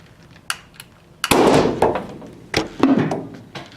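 Acetylene gas from calcium carbide ignites in a flask with a sharp bang, followed by a few more thuds and knocks in a room.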